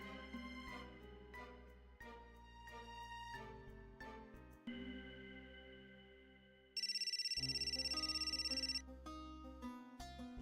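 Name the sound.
telephone ringing during a call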